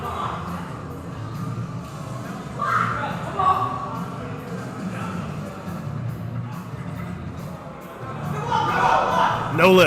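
A crowd at the 2020 WRPF Jacked O' Lantern Classic powerlifting meet cheers and shouts for a lifter attempting 578 pounds, with a loud, sustained roar of voices that builds toward the end amid overlapping talk.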